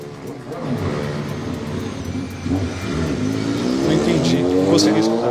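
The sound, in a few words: car passing by quickly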